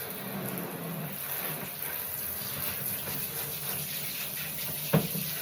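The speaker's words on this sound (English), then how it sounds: "I'm going to rinse out all the soapy water." Tap water runs steadily, rinsing soapy water out of fabric stained with pumpkin at a sink, a continuous close hiss and splash with a brief louder splash near the end.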